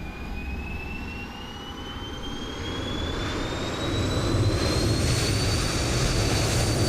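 Jet engines of an American Airlines 737 Max 8 spool up in Microsoft Flight Simulator, a steady roar with rising whine tones that climbs gradually and grows louder, with no talking.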